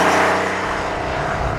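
A classic Porsche 930 Turbo Flatnose cabriolet pulls hard under throttle, a loud, steady engine roar swelling close by and dominating without any voices.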